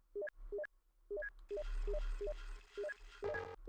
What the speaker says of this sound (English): That sounds like the Steam notification.